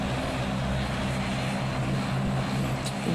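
An airplane taxiing at Saint Barthélemy airport, its propeller engine droning loud and steady throughout with a dense, continuous roar.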